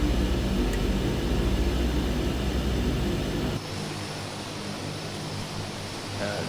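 A Grand Caravan's engine drones steadily in a flight simulator game, a loud broadband roar that drops abruptly to a quieter, thinner hum partway through, with no voices.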